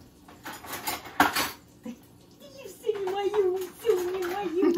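Dishes and a kitchen knife clatter and clink in a home kitchen in several sharp, irregular knocks while someone talks over them, her voice rising and falling under the handling noise.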